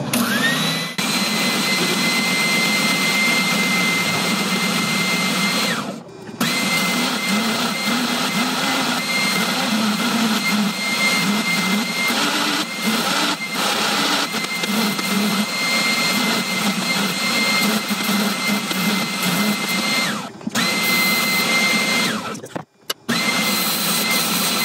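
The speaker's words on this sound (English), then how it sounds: "All right, guys, it's time to sand." A power sander works steadily over a guitar body, a loud continuous high whirring drone that runs nearly unbroken, with a few brief stops where the tool lifts off.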